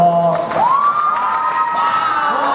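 A crowd at a shopping-mall game event screams and cheers loudly and up close, with high, shrill voices rising and holding in a sustained burst, and faint clapping mixed in.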